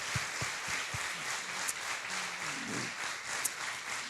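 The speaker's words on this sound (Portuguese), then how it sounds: "Vamos aplaudir o Senhor pela inspiração a Ele." Congregation applauding during a church service on the Letter to the Romans, a steady wash of clapping throughout with a few sharper claps near the start and faint murmured voices beneath.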